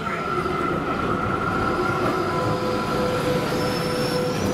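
A tram rumbles close by with a steady rolling roar and a sustained high metallic squeal of wheels as it pulls in at a stop in Docklands.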